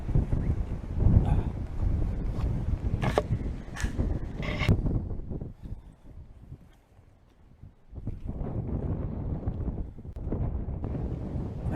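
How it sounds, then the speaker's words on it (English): Strong coastal wind at a Shingle Street lookout buffets the microphone in loud, rumbling gusts, easing briefly to a lull before roaring back. "it's very windy up here, so I must apologise."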